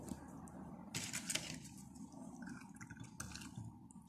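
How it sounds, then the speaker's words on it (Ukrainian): Splashing and dripping water with a couple of sharp sloshes as a fir cone and a pine cone are dunked into a container of water, then quieter trickling. "Ми зануримо дві шишки у ємність з водою."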